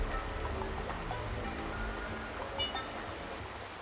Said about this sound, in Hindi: इसके बाद कमरे में कुछ देर तक सिर्फ लगातार होती बारिश की आवाज गूंजती रही।